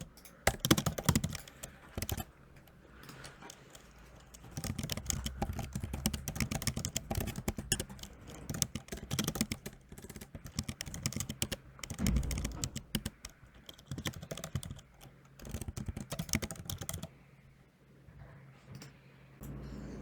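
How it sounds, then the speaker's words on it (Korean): Someone types an ID on a computer keyboard in quick bursts of clicking keystrokes, close and fairly quiet, with short pauses between runs and no talking. "형식에 맞춰서 아이디를 입력해 보겠습니다"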